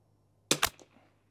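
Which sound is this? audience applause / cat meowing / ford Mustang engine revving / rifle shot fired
rifle shot fired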